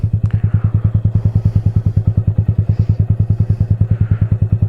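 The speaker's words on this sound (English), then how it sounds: "now our clutch is completely out, and here we go, we're moving" A small, underpowered motorcycle pulls away on the clutch alone with no throttle, its idling engine thumping in a steady, rapid, even beat, loud and close, with no voices.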